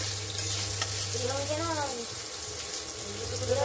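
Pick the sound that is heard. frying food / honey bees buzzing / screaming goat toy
frying food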